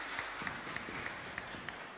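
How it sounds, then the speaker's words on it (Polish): Faint, distant applause from a concert audience for a parish orchestra at a religious song festival, a steady crackling wash with a few slightly louder claps poking through. "Brawa wielkie."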